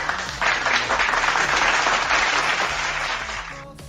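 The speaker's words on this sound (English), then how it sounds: "Another applause." A crowd applauds loudly and continuously for several seconds, the clapping dense and sustained before easing off at the end.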